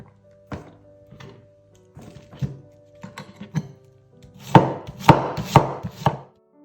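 A knife chops red and white cabbage and broccoli on a cutting board, first as scattered single thunks, then a closer burst of heavier, quicker cuts near the end, with no talking.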